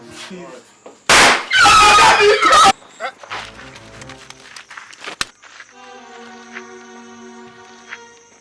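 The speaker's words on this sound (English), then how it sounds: "A gunshot." A single loud gunshot-like burst fired during a tense confrontation in a Nigerian village drama, a sharp crack followed by a rough blast lasting over a second, between stretches of talk and music.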